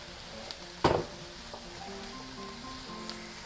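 Sausage drops into a hot pan with a single sharp splat near the start, then a quieter steady sizzle with faint scraping continues.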